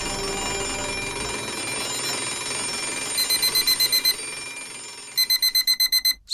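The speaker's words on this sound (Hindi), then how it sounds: "स्कूल बेल बजते बजते ही धीरे धीरे घर का अलार्म क्लॉक बन गई" An alarm clock rings in a home, a steady buzzing tone that breaks into two clusters of rapid, evenly spaced loud beeps near the end, heard alone without any talk.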